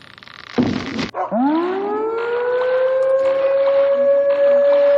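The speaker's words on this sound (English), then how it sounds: "I heard the professor's sirens going all around me" In the adventure game Agharta: Hollow Earth, a civil-defense-style siren winds up from a low growl into a loud, sustained rising wail after a brief clatter, holding steady and close.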